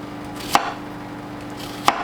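A knife chops an onion on a cutting board in two sharp, distinct strikes about a second apart, close and clear against a quiet background.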